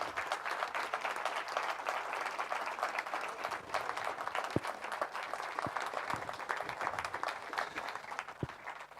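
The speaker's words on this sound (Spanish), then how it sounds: "simplemente pedirles un aplauso para los ponentes." Audience applause for the speakers at the end of a round-table panel, a sustained fairly distant patter of many hands with a few sharper knocks, no speech over it.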